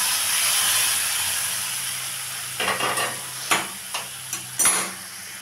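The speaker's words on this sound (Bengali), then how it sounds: "এখন আমি ডালটা ঢেলে দেব।" Boiled arhar dal is poured into a hot tempering of tomato, salt and turmeric. A steady hiss of frying gives way to several sharp, close sizzling bursts and splutters as the liquid hits the pan.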